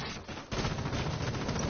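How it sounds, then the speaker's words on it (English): Rapid video game gunfire, a dense loud burst that starts after a short pause and keeps going steadily to the end. "Shots fired."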